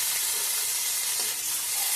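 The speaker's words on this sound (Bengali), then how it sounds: "আর এদিকে আমি কই মাছগুলো ভেজে নিচ্ছি।" Koi fish fry in hot oil with a dense, continuous sizzling hiss, close and steady, with no voices.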